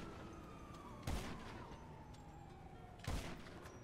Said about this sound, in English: whoever is this shooting at me